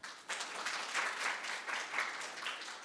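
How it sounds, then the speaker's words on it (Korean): Warm audience applause at a Korean investment briefing on smart cities and smart logistics, a steady wash of many hands clapping, fairly faint and distant in a large room. "소개해 드릴 때마다 한 분 한 분 따뜻한 박수로 맞아주시면 감사하겠습니다"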